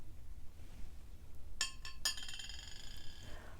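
A spoon stirs Earl Grey tea in cups and makes a few bright, delicate clinks against china, with two sharp taps and a short ringing tail over a soft, quiet room background.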